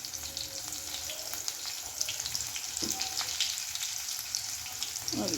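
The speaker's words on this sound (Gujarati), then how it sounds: "મસ્ત જીરું લાલ થઈ જાય એટલે આપણે અંદર લીલા મરચાં, મીઠો લીમડો એડ કરીશું" Cumin, green chillies and curry leaves temper in hot oil, giving a soft, steady sizzle and crackle at low volume, with a few faint clinks. No one speaks.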